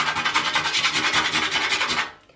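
Rapid, rhythmic scratching of a coin on a metal baking tray, a harsh rasping scrape repeated steadily for about two seconds before stopping abruptly.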